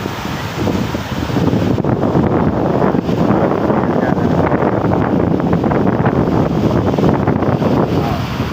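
Strong wind roars continuously, buffeting the microphone with loud, rough gusts throughout.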